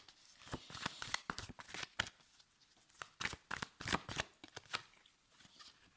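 A deck of tarot or oracle cards being shuffled by hand, a rapid series of crisp papery riffles and slaps in uneven bursts, close and fairly quiet, with no talking.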